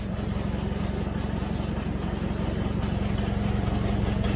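A belt-driven Bamford grinder and roller mill runs steadily, its machinery hum and rapid rhythmic beat holding even and close throughout, with no one talking.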